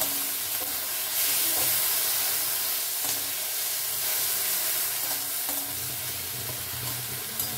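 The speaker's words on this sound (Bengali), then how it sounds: "এই মশলাটা দিয়েও আমি অল্প নাড়াচাড়া করলাম" A spice paste with lightly fried onion and garlic sizzles steadily in a pan for a bottle gourd and lentil dish, with occasional scraping stir strokes over a continuous close frying hiss and no voices.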